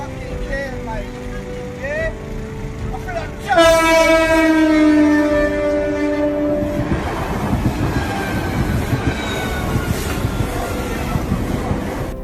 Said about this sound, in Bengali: ট্রেন খুব দ্রুত চলে এবং ধাক্কাও দেয় খুব জোরে